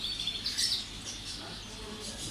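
Parrots at a bird market in Antalya give faint, scattered chirps and squawks over a low hum of background noise, with a few brighter calls early and softer ones after.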